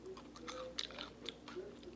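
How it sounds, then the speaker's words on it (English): Close, quiet crunching and chewing from biting into a Popeyes fried chicken sandwich, with a few crisp crackles over soft mouth sounds. "You hear that crunch?"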